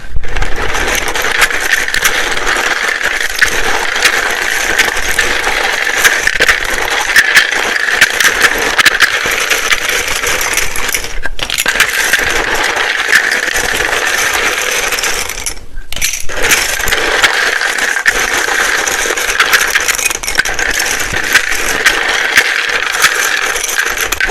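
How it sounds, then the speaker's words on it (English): A deck of tarot cards being shuffled close up, a loud, continuous riffling clatter that runs almost unbroken, with two brief pauses midway. "It can be very loud when I shuffle these."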